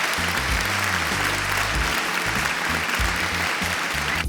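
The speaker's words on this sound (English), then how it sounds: "Let's go get these gentlemen a round of applause," A studio audience applauds show guests in a steady, dense wash of clapping and cheering that holds for the full stretch, with a low music bed thumping underneath.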